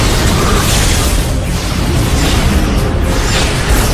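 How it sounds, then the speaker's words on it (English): Sci-fi starship battle with a vessel firing photon torpedoes and phase cannons at Romulan ships: loud continuous booming blasts and rumbling bursts in quick succession, heavy low-end impacts with no voices. "Open fire! Photonic torpedoes and phase cannons."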